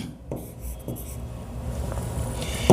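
A pen scratches steadily across paper while an accountancy entry is filled in, a soft continuous rubbing close by with a few sharper strokes and a small tap at the end.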